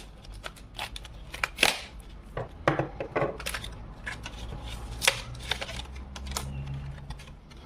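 Crinkly plastic blister packaging of a Fenix E03R V2.0 flashlight being pried and torn open, close up, a string of sharp crackles and clicks with scattered quieter rustling between them.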